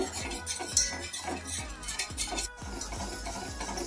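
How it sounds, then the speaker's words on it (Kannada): Kunafa mixture being stirred in a pan on a medium-flame stove, a spoon scraping and clinking against the metal in a steady repeated rhythm with a faint sizzle underneath, close and alone with no talk. "ಈ ಥರ ತಿರ್ಸ್ಕೊತಾ ಇರಬೇಕು, ಇಲ್ಲಾಂದ್ರೆ ತಳ ಹಿಡಿದ್ಬಿಡುತ್ತೆ"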